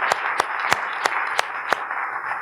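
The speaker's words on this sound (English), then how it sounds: "Let's give her a big round of applause" At a career-development talk, the audience applauds with a steady, evenly spaced beat of sharp claps standing out over a dense wash of softer clapping.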